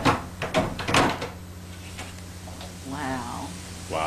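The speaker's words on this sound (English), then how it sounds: "Here is wonderful videos of cats opening doors." A door rattles and clunks open as cats work the handle, with a few sharp knocks and thumps up close followed by a brief creak.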